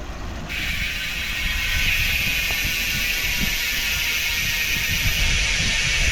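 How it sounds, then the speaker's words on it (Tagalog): Rear freewheel of a Ragusa XM800 MTB hub with a sealed-bearing free body, spinning in freewheel on a 29er Trinx Majes 100 rigid mountain bike: a steady, continuous fine ticking buzz, close and even throughout, with no talking. "Yan guys, yung tunog ng Ragusa XM800."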